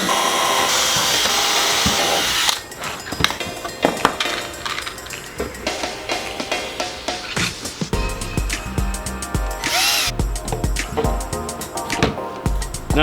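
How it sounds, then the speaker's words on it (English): A power drill bores holes into the carpet of a Porsche to mount a car amplifier. Loud, uneven whirring and grinding bursts with some clattering, and no talking. "What we want to do right now is start drilling holes and get this into the carpet."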